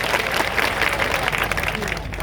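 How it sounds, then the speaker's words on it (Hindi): Loud, continuous applause from a large crowd at a political rally in Amarwada, a dense wash of clapping sustained throughout with a steady crowd murmur underneath. "उनके लिए जोरदार ताली बजाइए"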